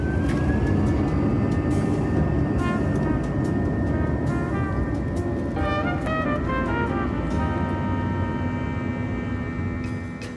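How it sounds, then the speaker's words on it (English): Philippine Airlines jet pushing back and departing cloudy Hong Kong, heard from the cabin as a steady loud engine roar and broadband whine with a rising tone and brief mechanical clicks, no talk. "With that, we push back and depart from cloudy Hong Kong."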